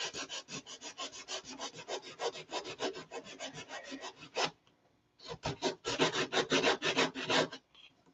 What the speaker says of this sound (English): Maybe we'll get some fillets sanded out tonight.